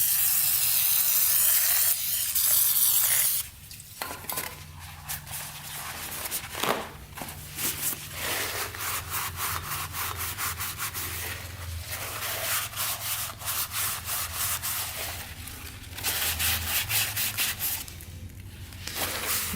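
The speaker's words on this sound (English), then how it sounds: "Go through with that and just hone that out a little bit." A hone scrapes and rubs inside a rusty ATV engine cylinder, opening with a steady hiss of WD-40 spray and then shifting to continuous gritty abrasive scrubbing close up.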